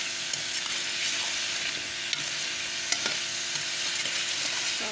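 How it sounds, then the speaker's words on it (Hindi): Half a kilo of chicken frying in oil crackles in a continuous, even sizzle with faint pops and an occasional stirring tap, close by and without voices. "हाफ के जी चिकन लिया और ये फ्राई कर रही हूँ ऑयल में"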